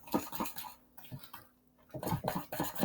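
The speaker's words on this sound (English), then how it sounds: "so then you just stir everything in. You want to get that egg nice and mixed in there" Egg being stirred into peanut butter cookie dough in a clear bowl: a spoon scrapes and clinks against the bowl in repeated short strokes, with a brief quieter pause midway.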